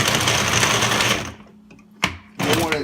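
A countertop blender whirs loudly through milk, strawberries, bananas and ice, then cuts out, gives a short pulse, and starts up again at full roar.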